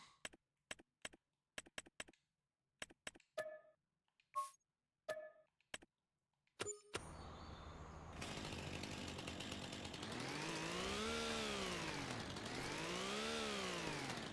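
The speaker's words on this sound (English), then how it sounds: "I'll just go ahead and cut these trees, too." Chainsaw cutting trees in Farming Simulator 25, starting with scattered sharp clicks and knocks, then a motor roaring up and holding a loud, steady buzz that rises and falls in pitch as it cuts.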